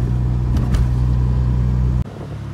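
Engine drone of a Mazda RX-7 FC cruising by a lake, heard from inside the cabin as a steady loud hum that cuts off abruptly near the end, leaving a quieter residual rumble; nobody speaks.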